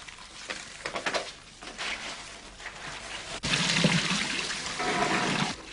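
Rushes being rinsed in water, with splashing and trickling that starts in short irregular bursts, then turns into a louder, steadier wash of moving water.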